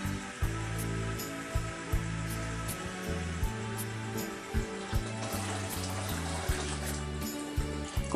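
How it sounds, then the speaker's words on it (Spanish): Mixed water from an electric shower temperature control system runs into a bucket as it fills, a steady splashing stream over a pulsing low mechanical tone, with short clicks along the way and no speech. "Luego comenzará el proceso de llenado del balde del agua de mezcla."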